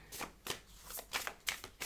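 Tarot cards are shuffled by hand in a quiet room, a series of soft, crisp riffling bursts about every quarter second, close to the listener with no talk.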